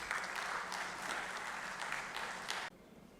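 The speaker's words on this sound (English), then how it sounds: "with a huge round of applause" Large audience at a chartered accountants' national conclave inaugural ceremony applauds loudly with dense, steady clapping that fills the space, then cuts off abruptly near the end, leaving quiet room tone.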